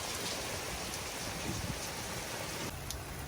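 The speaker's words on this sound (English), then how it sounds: "So the hail started out like this, and it can get as big as a golf ball" Hail pelts down steadily during a cold hailstorm, a dense, continuous hiss and patter of ice on surfaces, loud and unbroken, with no voices.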